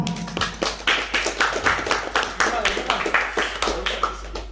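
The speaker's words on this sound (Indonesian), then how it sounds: "Tepuk tangan dong" Clapping from the audience at a community anniversary gathering in a villa, a loose rhythm of distinct hand claps at moderate level with a low hum underneath.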